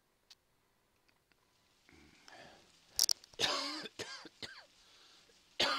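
Several harsh, raspy coughs from a person with a bad cough come close to the microphone, starting with faint ticks and then bursting out in a cluster of loud throaty hacks.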